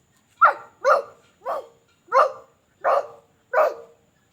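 A kindergarten child at a Children's Day competition imitates a dog barking: six loud, close, evenly spaced woof-like yelps from a young voice, each separated by a short silence.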